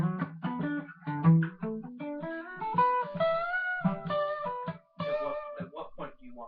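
Fast pentatonic lick on guitar with bends and gliding slides, a quick run of ascending notes rising in pitch, played alone and clearly up close in a practice setting.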